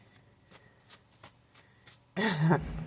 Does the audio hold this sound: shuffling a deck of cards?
yes